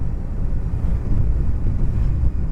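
Steady, low buffeting wind roars across the helmet microphone of a Honda Deauville motorcycle riding through valleys in the Peak District, UK. The rush is close and continuous, with no talk.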